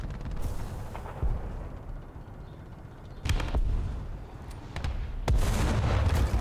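High-explosive shells from a War Thunder tank battle strike near a Finnish ZSU-57-2 anti-aircraft vehicle: three heavy, close booms spaced a couple of seconds apart over a steady engine rumble.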